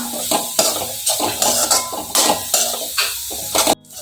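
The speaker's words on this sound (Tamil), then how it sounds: "உப்பு சேர்த்து நல்லா வதக்கிக்கலாம்." Onions and green chillies being sautéed with salt in a pan for mutton kothu kari, giving repeated bursts of scraping, stirring and light sizzling in an irregular rhythm, close and fairly loud, with no talk.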